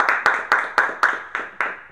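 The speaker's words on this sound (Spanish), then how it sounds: "Le damos un aplauso." Clapping for the clown Pitillo on a Chilean TV show comes as about eight sharp, evenly spaced claps in a steady quick rhythm, close and fairly loud.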